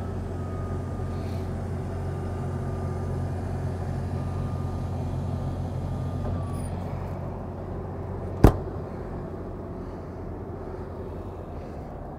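A Newmar Mountain Aire 4569 motorhome backs into a site with a steady, low engine drone running throughout. A single sharp click sounds near the end.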